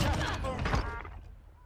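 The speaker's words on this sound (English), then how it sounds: "Fucking shotgun, bro." Shotgun blasts in Warzone, a dense burst of loud booming shots that fades into a decaying tail, with some voice mixed in.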